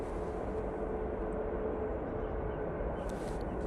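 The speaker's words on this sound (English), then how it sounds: "Aer Lingus just touching down. It's going from Dublin." An Aer Lingus airliner from Dublin touching down at Manchester Airport, heard as a distant, steady low engine roar and rumble with no talk over it.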